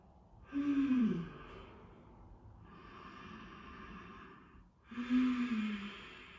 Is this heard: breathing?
yes